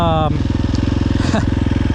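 A KTM 350 XC-F dirt bike with a tuned Vortex ECU idles steadily and close by, its single-cylinder engine pulsing evenly and loudly throughout, with a brief blip of throttle partway through.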